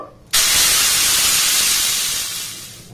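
Water poured onto a hot oiled pan erupts into a sudden, loud sizzling hiss up close, holding steady and then slowly fading toward the end.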